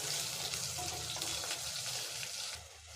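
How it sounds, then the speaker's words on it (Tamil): Small shallots and a dried red chilli sautéing in a hot pan of oil for a Tamil vatha kulambu, a steady close sizzle with faint stirring, no voices. "ஒரு வரமிளகாய் சேர்த்துக்கிறேன் இது எல்லாம் நல்லா வதங்கி வரட்டும்"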